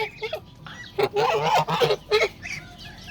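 Chinese geese, young birds in a flock, honk in a burst of loud, close, nasal calls, several overlapping in quick succession, with brief pauses between groups.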